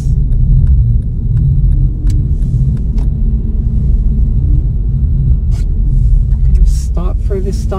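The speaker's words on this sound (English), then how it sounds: "I'm going to clutch up to bite point, give a little bit of gas" A manual transmission car pulling away from a stop in a parking lot after the clutch is let out, a steady low engine and road rumble running throughout, with a voice talking over it.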